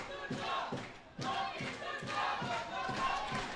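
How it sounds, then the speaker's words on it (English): Crowd cheering at a schools rugby match at Pallekele Stadium, a moderately loud mass of voices with rhythmic rising shouts and chant-like bursts repeating throughout. "As we finally see some cheering going on here at the Pallekele Stadium"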